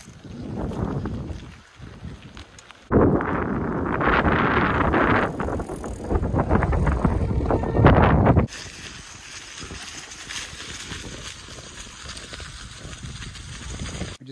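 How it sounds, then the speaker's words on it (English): Strong wind by an Adirondack lake buffets the microphone in heavy gusts, roaring loudest through the middle and then easing to a steadier rushing hiss, with no voices. "it's empty, and it's still very windy"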